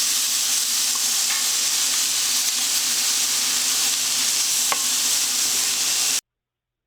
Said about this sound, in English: I want to make sure that everything is totally seared on all sides of this meat